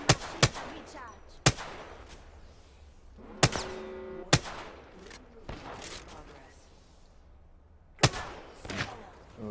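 Gunfire in Apex Legends-style play as Octane, Season 10: sharp single shots and short bursts scattered across the clip, some loud and close, others fainter, with ringing impacts and a voice talking between them.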